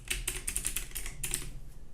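Typing on a computer keyboard while entering a domain name during website setup, a quick run of close, crisp key clicks in irregular bursts with a short pause near the middle.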